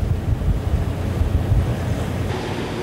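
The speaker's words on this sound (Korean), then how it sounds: "현재 파도는 3에서 4m, 풍속은 초속 14m, 시각은 밤 12시." High ocean waves of three to four metres and strong wind at sea at night aboard a fishing boat, with a continuous rough, surging roar of surf and wind gusts filling the scene.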